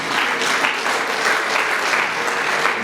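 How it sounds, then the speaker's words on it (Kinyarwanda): Wedding guests in a church clap steadily for the groom Japhet, a dense, loud and continuous round of applause with no voices over it. "Reka mwongera amashyi Japhet,"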